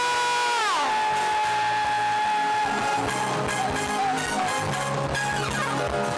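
A church congregation at a Christian holiday gathering in Jacqueville lets out loud, sustained joyful shouts and cheers over continuous worship music, the crowd noise steady and energetic throughout.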